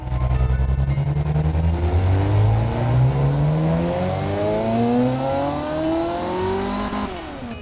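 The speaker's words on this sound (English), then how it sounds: "that sounds like a little race engine" Small race car engine in the Automation game revving steadily upward through its gears, rising pitch sweeps repeating for several seconds before cutting off sharply near the end, loud and continuous with no voices.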